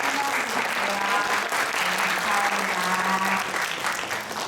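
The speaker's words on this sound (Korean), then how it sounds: "우리 박수로 한번 환영해드릴게요." A church congregation at Sunday worship claps steadily to welcome a guest, a continuous round of applause lasting a few seconds before easing off.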